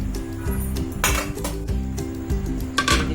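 Metal pressure cooker pot being handled on a kitchen counter, with close clanks, scrapes and light clinks of metal against metal, some sharper knocks, and a low hum underneath.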